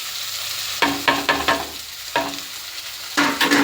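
Poha being stirred in a frying pan with turmeric, a spoon scraping and tossing in short bursts of scratchy clatter over a soft background sizzle, with brief pauses between strokes.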